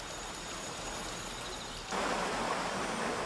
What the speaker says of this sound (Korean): 이곳 동학사를 돌아 흐르는 맑은 물소리